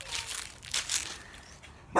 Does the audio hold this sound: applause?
no